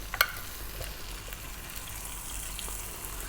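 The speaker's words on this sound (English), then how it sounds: "stir frying it around in the pan" Chicken pieces seasoned with black pepper frying and stirred in a hot pan, a steady soft sizzle with a brief clatter at the start, close and alone.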